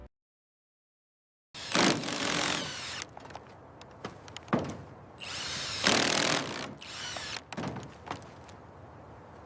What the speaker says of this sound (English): See how the drill makes quick work of securing the panel.